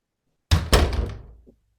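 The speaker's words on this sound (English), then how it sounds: "That was me closing the door on 2022" A door swings shut indoors with two quick solid thunks close together, followed by a brief rattle and fading reverberation in an otherwise quiet room.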